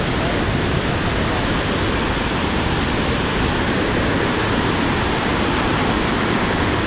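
Mother Falls, a waterfall in Baler, Aurora, roars as a steady, dense broadband rush of falling water that fills the whole clip without pause, loud and close.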